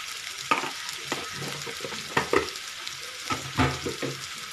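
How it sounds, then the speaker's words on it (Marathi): Red chili powder and garam masala roasting in hot oil for a matki and cauliflower kurma, a steady close sizzle broken by several sharp scraping stirs of a spatula against the pan. "आता आपण हे पण एकत्र भाजून घेणार आहोत"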